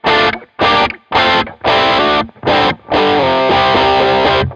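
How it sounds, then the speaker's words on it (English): An electric guitar riff played through a Big Muff distortion pedal, loud and fuzzy, in five short chopped bursts with brief silences before a longer sustained phrase. "Big muff for a big nice riff"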